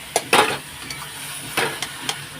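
Chicken pieces frying in a pan for chicken kosha, a soft background sizzle broken by a few sharp scrapes and knocks of a spatula turning the meat, close by and brief.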